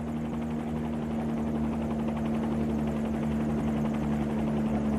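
A Bell 47 helicopter in a flight simulator game drones with a steady engine hum and a strong low tonal whine, an even rotor thrum holding constant without talk.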